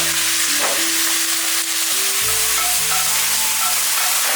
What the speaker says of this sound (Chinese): 重新起锅烧油，锅烧热下猪油， 芥蓝下锅前先冲一点水，油温烧高，把芥蓝倒进去，盖上盖子